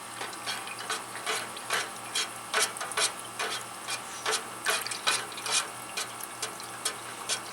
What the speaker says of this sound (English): you want to mix this in slowly while you're stirring